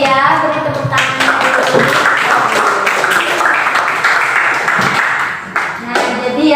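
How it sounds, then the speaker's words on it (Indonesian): Children in a classroom burst into a long, dense round of clapping up close, steady for several seconds before tapering off, with a few voices mixed in. "Beri tepuk tangan."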